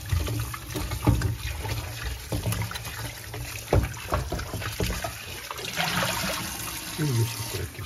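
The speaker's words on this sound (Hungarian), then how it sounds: "És akkor egy kis vizet rá." Tap water runs onto freshly peeled potatoes in a home kitchen, a steady broadband splash lasting a few seconds with some clatter around it, and a voice speaking over the top.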